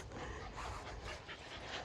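A dog pants rapidly and heavily on an outdoor walk, close to the microphone, a quick steady rhythm of breathy huffs over faint ambient rustle.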